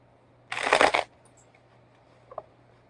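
A quick riffle of tarot cards being shuffled, about half a second of crisp flapping, followed later by a faint tap in an otherwise quiet room.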